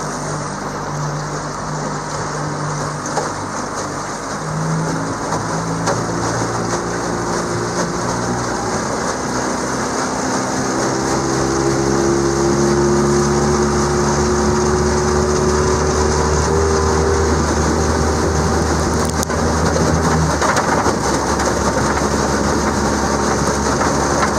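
A tiller-steer outboard motor drives a boat in a continuous loud drone whose pitch rises and shifts over time, with wind rushing across the microphone throughout.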